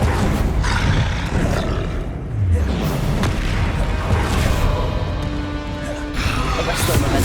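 A Confringo fire spell from Hogwarts Legacy bursts in a dense, roaring blast, with booming crashes layered through a loud, continuous stretch of combat noise.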